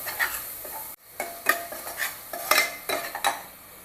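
Masala spices, including coriander-cumin powder, are sautéed alongside mutton in a pan, heard as repeated metallic spoon scrapes and clinks over a soft sizzle, with one brief drop to near silence.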